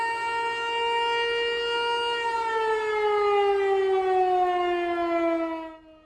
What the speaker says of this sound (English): tornado sirens were sounding